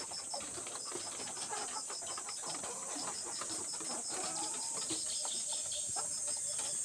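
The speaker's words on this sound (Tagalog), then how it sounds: "Yan po ating mga alagang manok na layer chickens." Flock of layer hens clucking in a poultry pen, with dense overlapping clucks and chirps spread across the scene and steady insect-like background chatter, no voices.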